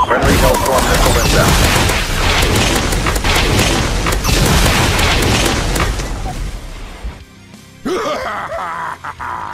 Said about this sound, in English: His ultimate is Cannon Barrage. This massive area of effect ability inflicts a massive slow